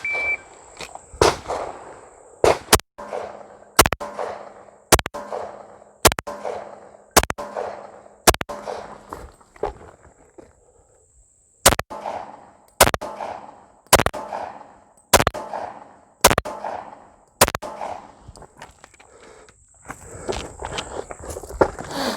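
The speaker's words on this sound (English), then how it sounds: "we're going to have 35 seconds to shoot 6 rounds standing and 6 rounds kneeling from the 25-yard line" Twelve sharp, loud gunshots ring out on a 25-yard qualification course, six in a steady rhythm, then a brief pause before six more, each followed by a short echoing tail.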